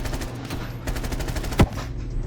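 A sniper rifle shot rings out in a Call of Duty match, one sharp loud crack standing out near the end above a dense bed of rapid gunfire and battle noise.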